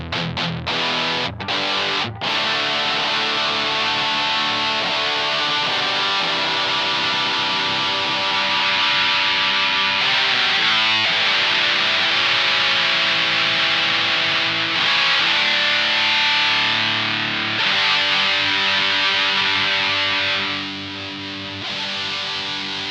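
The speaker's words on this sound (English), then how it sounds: "the mid-range control is the sweepable mids section of the pedal" A Boss MT-2 Metal Zone distortion pedal, its sweepable mid-range control being adjusted, drives a heavily distorted electric guitar through sustained chords and a few sharp stabs at the start, loud and continuous with tone shifting over time.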